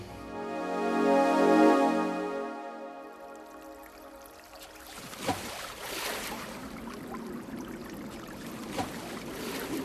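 A boat moving through water, a steady wash and trickle of water with low rumbling at first, then softer splashing and lapping that continues alone to the end.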